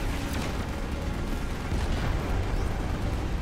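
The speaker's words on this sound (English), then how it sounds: "Oh, that exploded. Something exploded." Explosion in the video game Final Fantasy 15 amid continuous loud rumbling battle noise, with dense crackling bursts and booms throughout and a heavier surge near the end.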